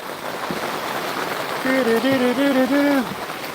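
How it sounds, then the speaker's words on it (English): Steady rain pours down outdoors, a dense continuous hiss throughout, while partway through a voice briefly hums or sings a wavering tune over it. "if the rain stops. Hate the rain."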